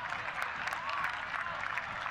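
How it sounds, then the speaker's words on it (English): A hometown crowd at a Saint Louis FC versus Phoenix Rising FC soccer match applauds in a faint, distant, steady wash of clapping, heard under a broadcast commentator's voice. "Big applause from the hometown crowd"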